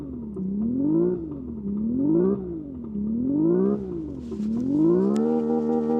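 Synthetic engine sound from the interior speakers of a stationary Hyundai Ioniq 6 N prototype, a buzzy tone that rises and falls like repeated revs four times, then climbs and holds steady at a high pitch.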